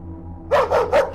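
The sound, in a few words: dog barking at the door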